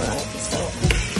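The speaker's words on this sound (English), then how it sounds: "I like to brown garlic and onions and the meat" Garlic, onions and pork browning in a pan for adobo, a close steady sizzle with a couple of louder bumps from stirring, no talk over it.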